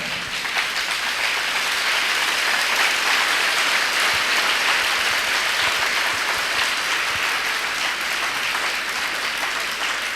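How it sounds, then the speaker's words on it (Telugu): A church congregation claps hands together, a dense sustained roar of many palms at fairly even loudness throughout, with no pauses. "చప్పట్లు కొట్టండి"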